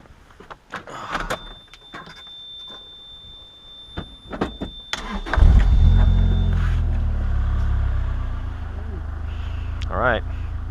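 A 2008 Mazda Miata MX-5 NC starts up, with clicks and a door-like clunk first, then the engine cranks and settles into a steady low idle while people talk nearby.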